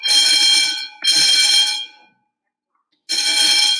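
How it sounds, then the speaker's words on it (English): A fire alarm blares in loud, steady bursts, two long blasts back to back, a brief silence, then a third blast starting, with no talking over it. "The fire alarm's going off again."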